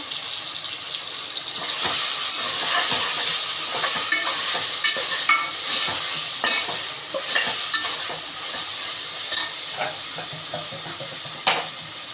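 Cut tomatoes fry in a pot for mutton biryani, a constant loud sizzle broken by repeated scraping and clattering stirs from a spoon, with no talking.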